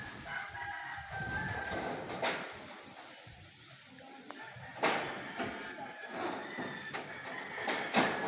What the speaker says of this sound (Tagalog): Parang madaling araw na nang ano na po yung mga manok na niniktilaok.